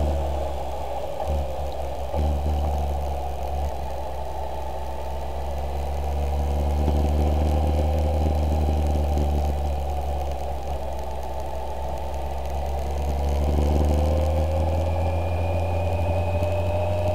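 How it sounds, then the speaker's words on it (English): A Kawasaki ZZR1200 motorcycle engine drones steadily while cruising in fourth gear, rising and falling gently in pitch with light throttle, along with road and wind noise and no voices. "So I think I'm just in 4th gear here, just rolling on."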